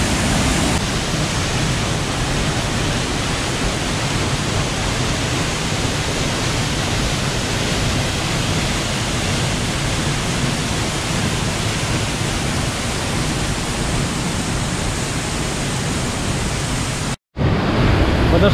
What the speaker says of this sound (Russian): подошли вплотную к водопаду